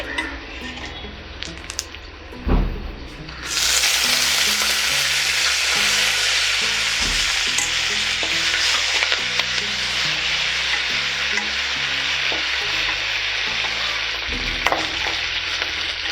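Thoothuvalai leaves sizzle and fry steadily in a hot pan for chutney, with a spoon scraping and stirring in repeated clinks and scrapes over continuous loud crackling, close up.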